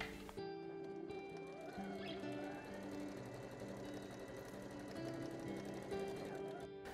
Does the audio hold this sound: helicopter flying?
no